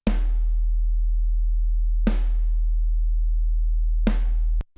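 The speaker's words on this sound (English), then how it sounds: "We have the sine wave and the snare together. Hear how it sounds." A steady low sine tone hums throughout while a snare drum cracks three times, once every two seconds, before the tone cuts off.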